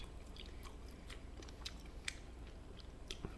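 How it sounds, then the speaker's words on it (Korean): Chewing while eating octopus and clam soup, with soft wet smacking and crunchy bites close to the microphone, heard at a low level with no talking. "쩝쩝쩝 참 천박하게 드시네요"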